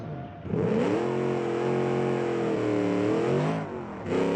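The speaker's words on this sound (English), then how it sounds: "That's not actually the rev limiter, that's just the rev limiter of the differential." Classic dragster engine in BeamNG.drive held against the differential rev limiter, a loud sustained high-revving drone with wavering pitch, dipping briefly before roaring back up.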